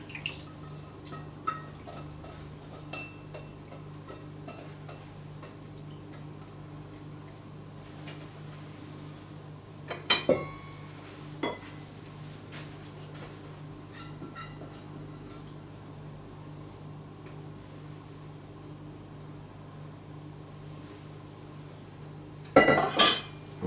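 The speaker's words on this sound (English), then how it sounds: "Then the next thing is to mix these wet ingredients into the dry." Wet ingredients are stirred into dry ones in a bowl, with soft scraping and a few sharp clinks of utensil against the bowl, quiet overall with brief louder knocks.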